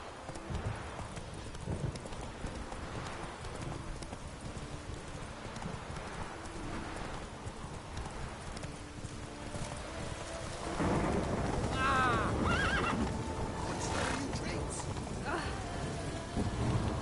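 A horse gallops in The Witcher 3, with continuous rhythmic hoofbeats under steady rain and rumbling thunder, the storm swelling louder partway through.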